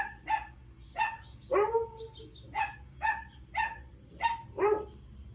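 A dog barks repeatedly in a steady series of about eight sharp barks, a few drawn out into yelps, moderately near with quiet gaps between.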